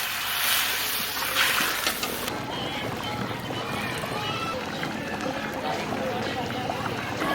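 Water is poured into a pan of Bengali village-style tomato and potato Katla fish curry, giving a loud rushing splash in the first couple of seconds, then a steady bubbling, sloshing simmer. Outdoor background noise continues throughout.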